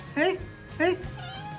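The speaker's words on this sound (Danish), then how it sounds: "En sød, sjov, dejlig missekat." A cat meows twice, two clear rising-and-falling cries close by, with a softer trailing sound after, over low room noise.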